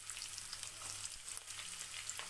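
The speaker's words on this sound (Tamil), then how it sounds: "எண்ணெய் சூடானதும் ஒரு பிரியாணி இலை, 3 கிராம்பு, 3 துண்டு பட்டை, 3 ஏலக்காய் இதெல்லாம் சேர்த்து பொரிஞ்சதும் 2 நறுக்குன வெங்காயத்தை இதில் சேர்த்துக்கோங்க" Two chopped onions hit hot oil already fried with a bay leaf, cloves, cinnamon pieces and cardamom for mushroom biryani, producing a loud, continuous crackling sizzle with faint stirring, and no voices.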